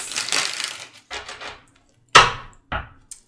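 Tarot cards being shuffled, in two riffle-like bursts of papery flutter, then a few sharp slaps and taps as the deck is squared, close and moderately loud with no talking.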